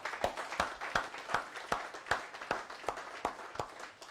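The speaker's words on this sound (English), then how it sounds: "I want a bigger clap for those guys." An audience at a swearing-in ceremony for the African Development Bank president-elect claps in a steady, evenly spaced rhythm of a dozen sharp claps that fade slightly toward the end, heard without talking.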